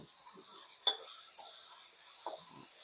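Free-range chicken is stir-fried in a wok for a spicy Thai stir-fry, a soft steady sizzle with a few sharp spatula scrapes and knocks against the pan, fairly quiet and without speech.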